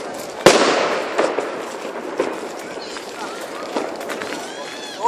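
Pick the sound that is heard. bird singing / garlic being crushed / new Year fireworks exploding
new Year fireworks exploding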